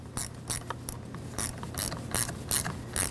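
A ratchet wrench tightens the battery terminal nut on a Dodge Grand Caravan 3.6L, a close run of quick, rhythmic metallic clicks in short bursts with no talking.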